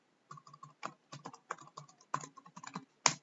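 Keys on a computer keyboard tap in quick irregular bursts, close and fairly quiet, ending with a slightly louder keystroke, with no talking.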